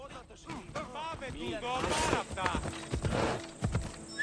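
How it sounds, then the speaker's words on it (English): Horse hooves clip-clop steadily in the video game Assassin's Creed Odyssey, close and rhythmic, mixed with voices and other game sounds. "I can as well go on the horse."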